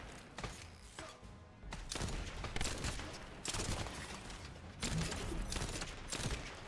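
Bursts of gunfire from a weapon in the looter-shooter game The First Descendant, firing in several rapid volleys with short pauses between them, loud and close, with no talking over it.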